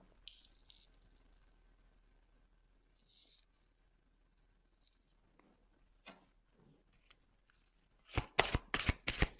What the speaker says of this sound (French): Je vais tirer quelques cartes complémentaires.